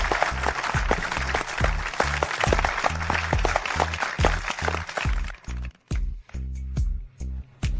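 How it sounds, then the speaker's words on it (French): Applause from a crowd for a gold medal winner, steady clapping that breaks into scattered bursts near the end, with a rhythmic low thumping underneath. "Accueillons par une salve d'applaudissements le médaillé d'or de cette année, Liam Smith."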